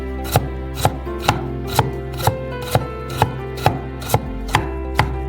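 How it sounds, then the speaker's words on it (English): A knife chops a carrot into small strips on a cutting board, giving about a dozen crisp, evenly spaced knocks in a steady rhythm, close and clear with no talking. "And then into small strips."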